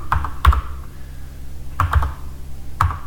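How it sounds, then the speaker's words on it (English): Keys on a computer keyboard tapped in short clustered bursts, a few quick clicks at a time separated by pauses, close and clear, as an IP address is entered. "So I'm just going to type in this"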